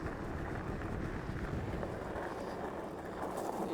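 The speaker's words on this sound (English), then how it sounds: "the wind is pretty strong out here" Strong wind buffeting the microphone outdoors during an AWD ebike ride, a loud, continuous low roar that stays steady throughout with no talking.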